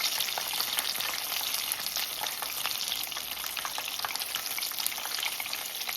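Bar-b-fried chicken pieces frying in hot oil give a dense, steady crackling sizzle with fine popping throughout, close and continuous, with no voices.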